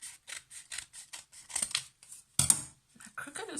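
Paper being cut with scissors while making junk journal pockets, a quick series of close, crisp snips in uneven rhythm, with a louder rustling cut partway through and no talking.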